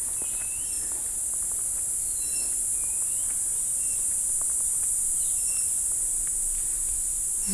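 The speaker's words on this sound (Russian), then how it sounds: "А вот вновь какие-то цикады застрекотали, как около нашего дома" Continuous high-pitched insect droning from cicadas in the Philippine mountains, a steady bright buzz filling the background alongside faint scattered bird chirps in quiet tropical surroundings.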